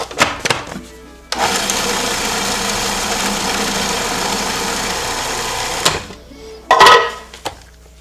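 An electric mixer whirs at a steady pitch for several seconds, blending packed butter for a French silk pie, starting and stopping with brief clunks around it and no talking.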